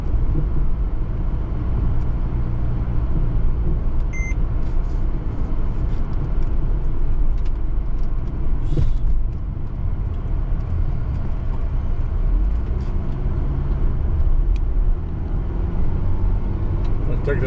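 A car driving along a road on a hot evening, with steady low engine and tyre rumble throughout, close and loud, and a brief faint tone partway through.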